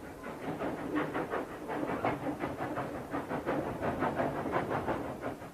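A train carries a king's body back to Belgrade in the 1930s, its wheels giving a steady, rhythmic clickety-clack over the rails, close and continuous, with a hissing undertone.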